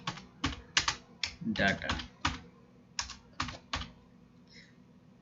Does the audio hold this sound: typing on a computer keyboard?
yes